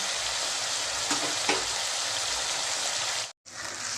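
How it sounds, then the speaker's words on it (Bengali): Onions with a little salt fry in a pan, a close, continuous sizzle with crackling throughout. The sound cuts out for a brief moment near the end, then resumes. "আমার পেঁয়াজগুলো একদম লাল লাল করে ভাজা হয়ে গেছে"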